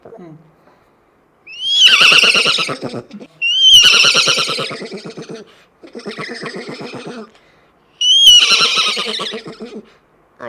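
A voice imitates a horse neighing, four loud, shrill whinnies with shaky trembling tails, separated by short pauses and delivered close up.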